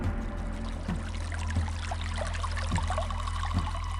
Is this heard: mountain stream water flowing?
yes